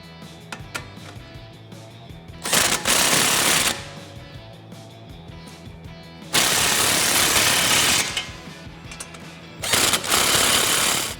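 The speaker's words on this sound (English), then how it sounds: "using your 24mm socket, go ahead and tighten them down" A 24mm socket on an impact gun tightening nuts onto bolts while reinstalling suspension on a 2015-2019 Mustang, three loud, close bursts of rapid hammering separated by quieter pauses with light clinks.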